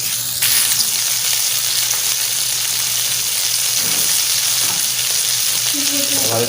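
Tikka fries in a pan over a low flame, a loud, steady, close sizzle and crackle that continues throughout, with faint stirring near the end and no talking.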